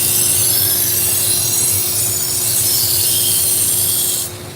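A knife blade is drawn across a 120 grit abrasive on a sharpening machine, a loud continuous rasping hiss over a steady motor hum, easing off at the very end.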